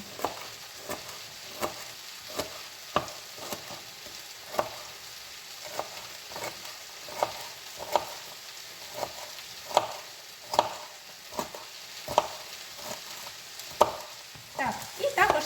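Eggplant pieces frying in a pan over high heat, a steady crackling sizzle with regular stirring scrapes every second or so, close and moderately loud, with no talking.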